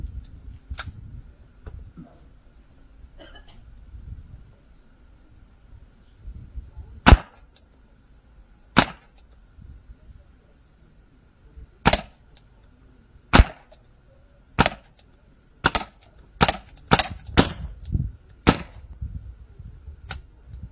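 A Beretta Gardone RTX Premium rifle fires a string of sharp, dry shots over quiet background noise. The shots are spaced at first, then come faster and closer together toward the end, with no talking.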